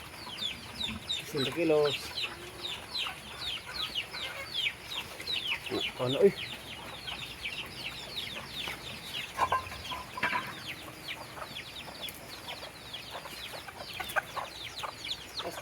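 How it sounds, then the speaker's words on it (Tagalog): Native chickens clucking on a rural Philippine farm, soft repeated clucks scattered over ambient outdoor noise, with someone talking intermittently alongside. "Mayroon din mga manok dito mga kalaago."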